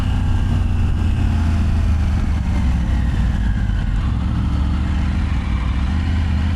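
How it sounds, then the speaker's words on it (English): Loud, steady rumble of cruiser motorcycles riding ahead, heard from a Triumph Tiger 900, droning continuously without breaks. "Looks like we got some motorcycles up ahead."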